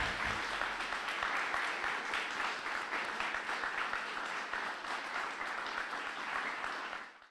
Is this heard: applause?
yes